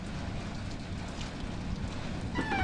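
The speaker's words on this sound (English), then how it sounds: "The rain is lashing down." Heavy rain lashes down in a fierce thunderstorm in the J-horror game Night of Sacrifice, a dense, steady roar of rainfall from start to finish, with no voices.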